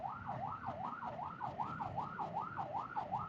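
An ambulance siren wails in a regular rising and falling sweep, about eight cycles, heard from a road alongside low traffic rumble and no voices.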